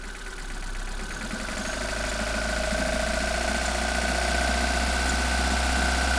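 A car engine runs with its headlights on during an alternator and battery charge test. It is revved gently and then held at a steady, loud, close hum, and its pitch rises slightly as the revs climb. No one speaks.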